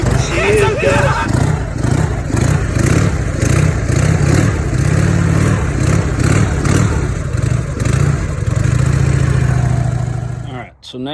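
A Harley motorcycle engine fitted with a cheap Amazon carburetor idles roughly and revs in uneven bursts, loud and close, with someone talking over it before it cuts out at the end.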